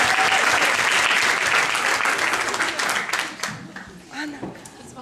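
Audience at a charity Valentine's Day event and school show applauding, a dense, loud wash of clapping that holds steady and then thins out toward the end.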